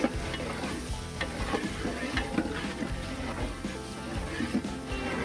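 Curry leaves frying in oil in a pan for a village-style South Indian sambar, giving a steady close sizzle with soft stirring scrapes and faint clinks throughout.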